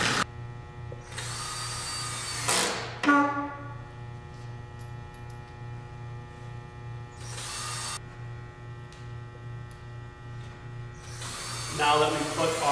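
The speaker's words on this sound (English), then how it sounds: "going to screw it home" A power drill drives screws into a slat of a solid pine Adirondack chair kit, with several short whirring bursts of the driver over a steady low hum.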